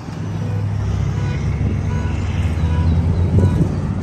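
Steady traffic roar from a nearby expressway, with cars and heavy trucks passing in a continuous broadband wash, moderately loud and close, with no talking.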